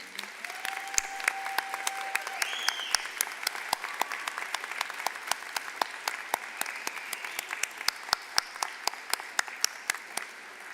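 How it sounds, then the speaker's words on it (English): Commencement audience applauding steadily for about ten seconds, a dense wash of claps with a few sharp individual claps standing out, no talking. "let's do one more round of applause to show everyone's appreciation."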